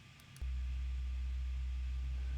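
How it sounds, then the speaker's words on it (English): A single low sine wave tone from a music production setup switches on abruptly and holds steady and loud, a pure deep hum with no other sounds. "generate something like just a single low frequency tone, all right, a sine wave in this case"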